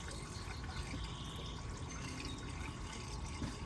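Coolant is poured into the radiator of a 2004 Infiniti G35X with a VQ35DE engine, a steady liquid filling and trickling sound, low and constant, with no voices.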